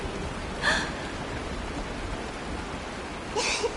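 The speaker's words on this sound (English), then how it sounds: "It is raining." Steady hiss of rain falling continuously in the game Honkai: Star Rail, fairly soft, with two brief airy breathy sounds rising above it.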